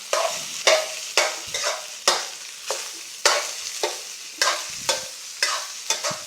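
Spatula scrapes and stirs home-style fried rice, made without egg, in a hot pan, giving roughly a dozen sharp, regular scraping strokes over a soft sizzle, close and fairly loud with no talking.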